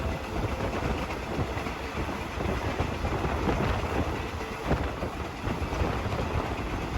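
Thai excursion train No. 921, running from Bangkok Hua Lamphong to Khok Salung, rumbles steadily along the railway, with continuous broadband wheel and track noise and no talk.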